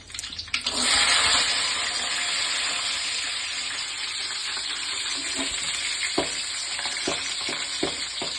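Two green chillies and garlic drop into hot oil in a pan, erupting into a loud sizzle that eases to a steady close hiss, with light stirring scrapes and taps toward the end and nobody talking.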